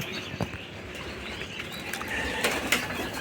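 Racing pigeons take off from a loft during training, a faint, fluttering rush of wingbeats with a few sharper flaps and light outdoor ambience, without any voices.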